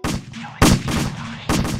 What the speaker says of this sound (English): Look at those idiots just shooting off down there, just wasting round after round